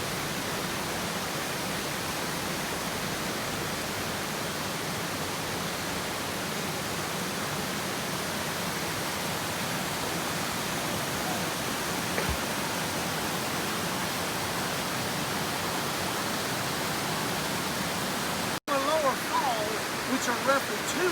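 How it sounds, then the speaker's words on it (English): Amicalola Falls, a tall waterfall in Georgia, heard as a steady, dense roar of tumbling water with no break, constant and moderately loud throughout. "You can still hear the water as they get stronger and stronger the higher we go up"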